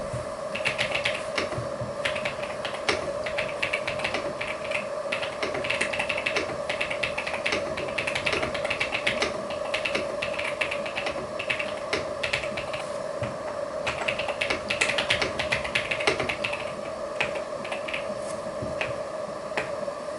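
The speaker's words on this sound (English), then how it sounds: "So let's show you right now the typing test." Rapid, continuous clacking of keys on an EPOMAKER DynaTab 75X mechanical keyboard, a dense patter of crisp clicks held steady for about twenty seconds with no voices.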